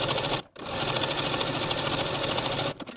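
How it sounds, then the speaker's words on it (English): A sewing machine stitches a folded fabric drawstring in a fast, steady mechanical rhythm, stopping briefly near the start and again at the end, close and loud. "we're going to take them to the sewing machine and sew 1/4 inch away from the folded edge"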